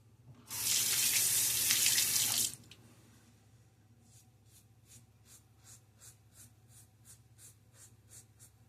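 A bathroom tap gushes loudly for about two seconds, then shuts off, leaving faint, evenly spaced drips in a quiet room.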